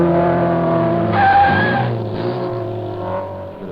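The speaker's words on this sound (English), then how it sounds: "Bit of braking there." A 1972 race car with a 96-cubic-inch engine making about 160 horsepower brakes on the Knox Mountain hill climb in Kelowna, BC, its loud engine note dropping while a brief tire squeal rises in the middle.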